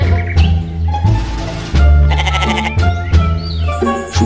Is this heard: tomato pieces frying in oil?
no